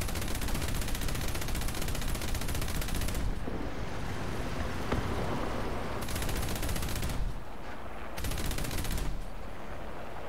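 20mm Oerlikon autocannon fired from a vehicle in the War Thunder video game, long sustained bursts of rapid-fire shots with brief pauses between them, loud and dense with no talk over them.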